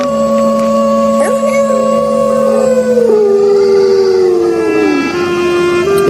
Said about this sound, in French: il entend les loups hurler près du chemin.